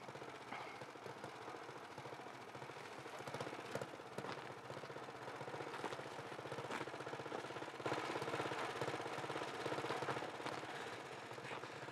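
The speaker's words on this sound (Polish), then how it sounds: "Wsiadaj na motor." A motorcycle engine runs in the desert near El Alamein during wartime, a faint, steady, rough rumble with rapid knocking pulses and no clear talk over it.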